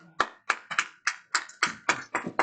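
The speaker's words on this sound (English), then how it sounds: "clap" Hands clapping at the start of a university security club meeting, about nine sharp claps in a loose, uneven rhythm over a couple of seconds, close and fairly loud in a room.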